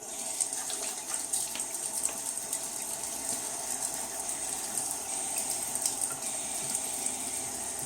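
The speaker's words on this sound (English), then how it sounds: "Alright, I'm just rinse the face real quick." Running water pours steadily from a bathroom sink tap as a face is rinsed after a shave, a continuous close hiss and splash with small bursts throughout and no talking.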